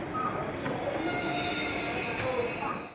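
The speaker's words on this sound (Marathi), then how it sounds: "ट्रेन आलेली आहे." A train pulls into a station with loud, sustained metal wheel squeal over rumbling carriages, steady throughout with faint crowd noise behind.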